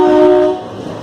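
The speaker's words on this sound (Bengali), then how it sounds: "চলো ট্রেন ছেড়ে দিয়েছে, জার্নি স্টার্ট" A train horn sounds loud and close in one steady blast that cuts off halfway, leaving a low rumble of the departing train.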